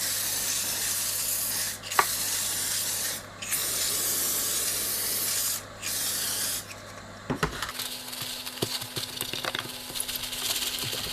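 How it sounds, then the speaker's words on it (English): An aerosol can of label remover hisses in several long, close bursts with brief gaps, followed by rubbing and clinking handling sounds. "Just spray on some label remover to get rid of this residue."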